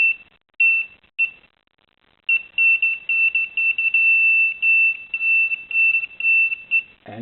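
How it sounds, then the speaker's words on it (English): Clear high-pitched electronic beeping from a metal detector pinpointer: a few separate beeps, a pause, then a rapid run of repeated beeps, close and loud. "the little lamp here is beeping"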